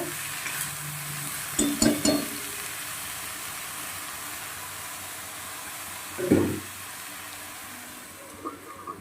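A ladle scrapes and stirs mustard greens in a pan, with a few clattering bursts of metal against the pan over a low, steady cooking hiss, fairly quiet and without talk.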